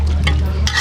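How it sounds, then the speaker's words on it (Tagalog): A spoon stirs chicken tinola with papaya in a pot over an outdoor cooking fire, scraping and swishing through the ingredients against a steady low rumble and faint sizzle. "Haluin. Haluin hanggat maaari."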